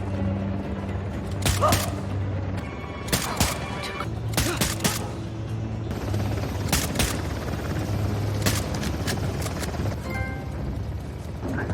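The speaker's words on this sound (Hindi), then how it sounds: "क्रोई आरपीजी से हेलीकॉप्टर को हिट करती है" Gunfire, explosive booms and helicopter rotor noise from the video game Uncharted: The Lost Legacy as an RPG strikes a helicopter, dense and loud with repeated bursts over a continuous engine drone.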